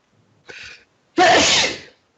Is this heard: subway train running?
no